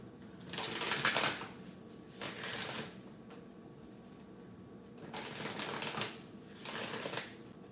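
Cards being shuffled in four quick riffling bursts, close and crisp, separated by short quiet gaps.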